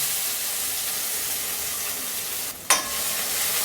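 Green chilies and crushed garlic frying in hot oil for a Marathi forest vegetable dish, a steady close sizzle with a brief stir or clatter partway through.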